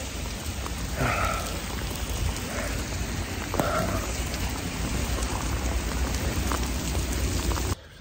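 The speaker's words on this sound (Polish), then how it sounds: "Złapał nas mega deszcz." Heavy rain pours outdoors in Oslo, Norway, a loud, dense, continuous roar of falling water close by that stays steady and then cuts off abruptly at the very end.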